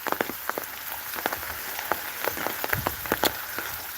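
Heavy rain pours down on a village in Sarankhola upazila, Bagerhat district, Bangladesh, a steady dense wash of nearby drops with sharper irregular plinks and taps on surfaces throughout, and no voices.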